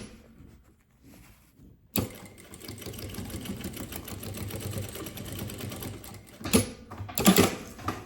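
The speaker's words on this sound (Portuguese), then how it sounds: "Retrocesso no início e no final." A sewing machine runs in a steady, fast rattling burst while stitching a bag seam, backstitching at the start and end, with short louder bursts near the close after an initial quiet pause.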